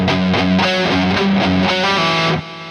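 Heavily distorted electric guitar plays a short, quick hammer-on and pull-off riff, slurred notes, loud and gritty, ending with a held note that drops off.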